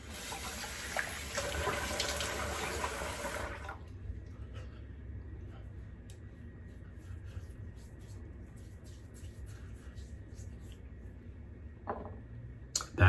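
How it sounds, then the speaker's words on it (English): Warm water runs from a tap for a few seconds during shaving, then stops, leaving a quiet room with faint handling sounds and a brief splash near the end. "Add some warm water again."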